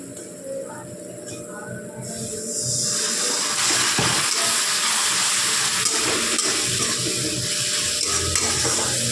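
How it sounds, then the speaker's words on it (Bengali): A little water poured into fish curry masala frying in a pan, starting as a quieter sizzle and swelling after two seconds into a loud, steady hissing splash and bubbling that holds to the end. "এবার মশলাটা যাতে নিচ থেকে ধরে না যায় তার জন্য দেব সামান্য একটু জল।"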